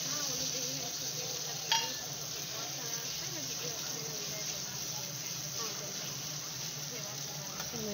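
Tomato goes into spice paste frying in oil in a pan, giving a steady sizzle with a single sharp clink of utensil partway through, under light background noise.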